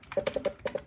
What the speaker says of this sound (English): here's the sound of someone interacting with Google's homepage,